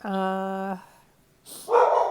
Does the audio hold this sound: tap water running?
no